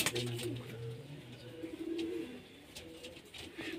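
Pigeons kept for sale in Multan coo softly and repeatedly in low, rolling phrases, with someone talking over them.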